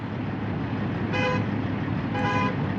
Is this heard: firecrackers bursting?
no